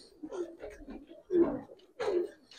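Original black-beaked Chuina pigeons, a female and a male, give soft rolling coos in short bursts, close by, with gaps of quiet between them.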